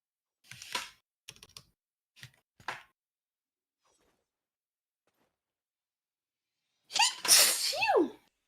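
A single loud, close sneeze bursts out near the end, after a few short bursts of quiet clicking or typing at a computer keyboard in an otherwise silent room.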